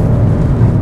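Genesis G90 sedan pulling hard at high RPM on a road, a loud, close, low engine roar sustained throughout with no talk.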